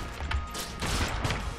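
Rapid gunfire from the twin-stick dungeon shooter Enter the Gungeon, a dense fusillade of overlapping game weapon shots in bursts, fairly loud and continuous over a busy background.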